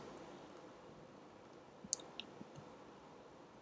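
Computer mouse double-click on a Mac: two quick, faint, sharp clicks close together, then a couple of softer ticks, over quiet room hiss with no talking.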